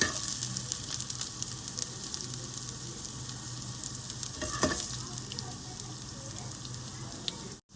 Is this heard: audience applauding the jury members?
no